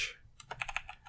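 Rapid clicking of a computer keyboard being typed on, with close, crisp keystrokes in an irregular burst and no talking.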